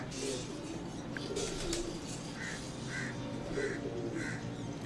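Pagal Topi breed pigeons at a Rawalpindi loft give several soft, repeated coos with other bird calls in a steady outdoor background, no talking.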